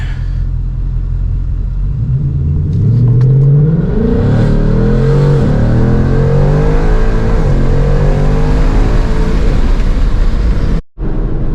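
A car launching hard in Sport Plus mode with a cold-air intake, the engine roaring loud and close as revs climb and shift through gears over a deep rumble.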